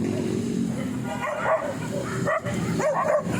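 Dogs bark and yip in overlapping bursts, some whimpering between barks, fairly close with a steady background hum.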